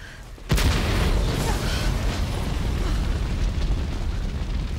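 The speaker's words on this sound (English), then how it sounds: "You're not supposed to look back on explosions." An explosion in the video game Resident Evil 2 hits suddenly with a sharp loud boom, then a long roaring rumble of debris and fire that keeps going at full strength.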